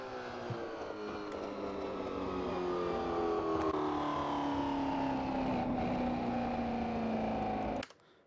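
Porsche 906 boxer six racing engine in Assetto Corsa, held at a steady loud drone with a slowly falling pitch, harmonics sliding down as revs ease, then cutting off abruptly near the end.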